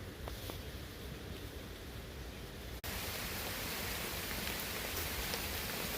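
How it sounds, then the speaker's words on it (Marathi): Dense, steady rain pours down as a constant hiss, with a brief dip before it continues even louder. "जबरदस्त असा पाऊस आलेला आहे"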